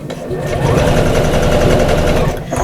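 A sewing machine bastes seams on a reversible shopper bag, its needle chattering in a fast, steady, close rhythm for a few seconds before stopping.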